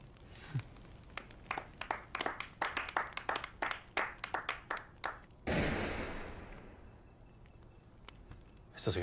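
Sparse, crisp claps ring out one after another at a slow, slightly uneven pace in a quiet room. They are followed by a sudden loud rushing burst that fades away.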